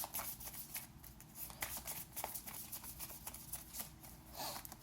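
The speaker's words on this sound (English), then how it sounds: "I got to pull you some rune cards" Rune cards shuffled and drawn from a deck during a reading, a steady close papery riffling and sliding that runs the whole time, fairly quiet.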